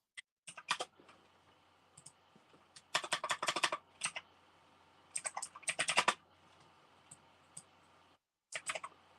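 Bursts of computer-keyboard typing for a search come in quick clusters separated by short pauses, crisp clicking keys close to the microphone in an otherwise quiet room.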